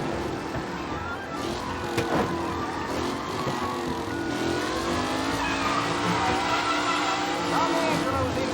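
Race cars on the final lap in Mafia Definitive Edition rev and accelerate with a continuous engine roar, rising and falling pitch as cars pass, and brief tire squeals, heard close and loud.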